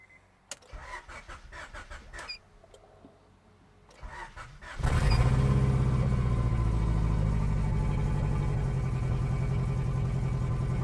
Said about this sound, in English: I'm going to start up the car to let you hear what it sounds like